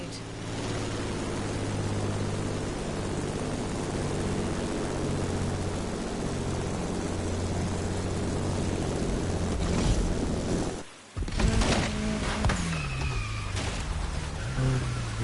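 A side-by-side off-road vehicle roars through a high-altitude race in Back in Paradise, a continuous loud engine drone with rushing wind, briefly cutting out before revving back up with rising and falling pitch.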